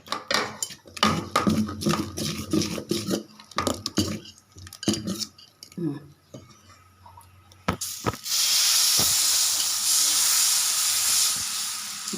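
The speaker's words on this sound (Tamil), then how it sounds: "தோசை ஊற்றிடலாம்." Chana dal dosa batter hits a hot griddle and breaks into a loud, steady sizzling hiss that lasts several seconds, coming after a stretch of clinking and stirring with utensils in the kitchen.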